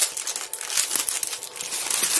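Cellophane tape is pulled off a roll and torn into short pieces in a photo studio while a paper lantern is being made, giving a close, continuous crinkling, ripping rasp with no speech.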